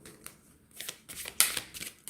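Thick oracle cards are shuffled and spread by hand for a reading, making a series of quick papery riffles and slides in short bursts close to the listener.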